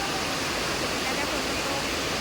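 Heavy rain pours steadily during a storm in Laos, a dense, even broadband rush close by with no pauses, like a downpour drumming on surfaces.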